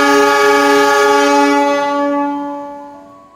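A loud, sustained horn blast comes from a train pulled by two locomotives, CC 201 class, at Bogor station in Indonesia. The tone rings close, then fades away.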